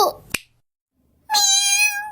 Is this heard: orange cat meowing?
yes